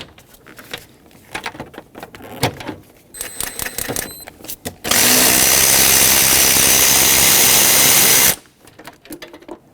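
A socket wrench unbolts a bolt on a car radiator on a 2006-2010 Hyundai Sonata, with a few clicks and clinks of metal tools, then a loud, steady whirring burst of a powered driver for several seconds before it stops.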